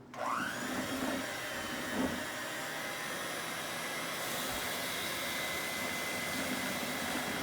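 An electric mixer whirs steadily through pound cake batter, a loud continuous motor drone that starts abruptly and holds a constant pitch near the microphone, with no one speaking.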